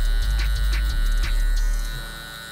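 LoProFX hair clippers cutting hair at a barber's fade, a close, steady electric buzz with brief rasping bursts as the blades pass through, easing off toward the end.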